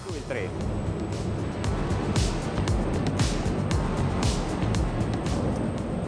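An OTAM 70 HT performance motor boat runs at full throttle with the trim up, making a loud, continuous engine roar blended with rushing water and wind noise that holds steady throughout.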